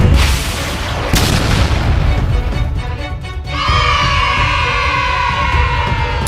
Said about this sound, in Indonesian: Lihat aja, akan kuhancurkan dia dengan basoka ini.